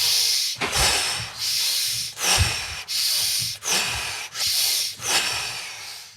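Deep breath work, with several slow, rhythmic cycles of loud, close inhales and exhales, each breath a long airy rush separated by brief pauses.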